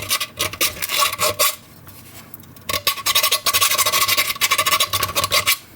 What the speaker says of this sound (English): so I'll take my little circular file